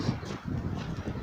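Outdoors, wind buffets the microphone in low, rumbling gusts that roll in close and uneven for just over a second.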